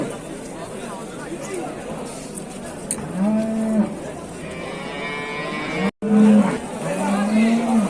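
Cattle moo repeatedly at a busy livestock market, with dairy cows and calves for sale, three or four drawn-out lowing calls rising over steady crowd chatter and background noise.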